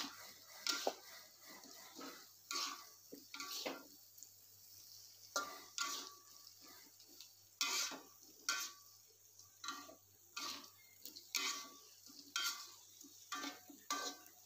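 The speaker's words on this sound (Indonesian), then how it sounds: "Kita aduk hingga merata." Fish and tofu are stirred in a frying pan, a utensil scraping and clattering in repeated bursts every second or so over a faint sizzle, close and fairly quiet.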